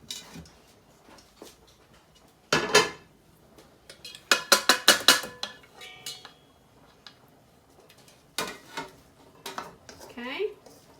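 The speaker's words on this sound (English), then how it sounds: "I'm going to put this into my bowl" Food for baked ziti with meat sauce is scraped and spooned into a pot, giving clustered metallic clinks and knocks with quiet gaps between them and a final flurry of scraping.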